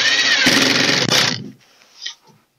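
A power drill whirs loudly up close for about a second and a half, driving screws into plywood baffling inside a KD250 kiln, then cuts off, leaving faint knocks.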